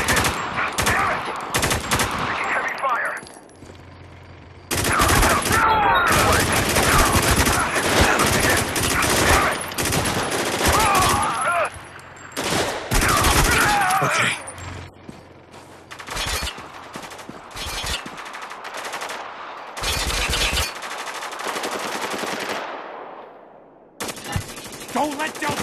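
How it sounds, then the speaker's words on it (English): Heavy automatic gunfire from the video game Spec Ops: The Line: dense machine-gun bursts and rapid shots, loud and close, with short lulls between volleys and shouted voices mixed in. "Taking heavy fire!"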